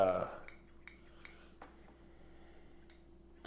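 Fabric shears snap shut in a few sharp, close metallic snips against a quiet room, each click brief and distinct after a louder opening moment.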